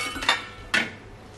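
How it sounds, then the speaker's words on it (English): A knife working on a chump of Cornish lamb on a board, giving two sharp, close cutting clicks or knocks spaced apart over a low background hum, with no talking. "we're just going to trim that up a little bit."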